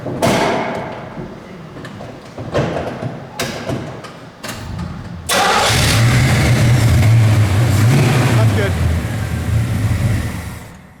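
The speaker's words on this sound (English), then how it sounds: "I can probably fire it up. We can hear it run for a couple seconds." A 1970 Chevrolet Nova V8 cold-starts with a loud burst and settles into a steady, rumbling idle close by, after a few knocks and brief talk.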